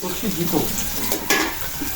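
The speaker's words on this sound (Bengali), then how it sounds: "পেঁয়াজ মরিচ ভাজা হয়ে গেছে" Onions and chilies fry in a pan with lively stirring, a dense close sizzle with scraping pulses and a sharp burst of crackle near the middle, no speech.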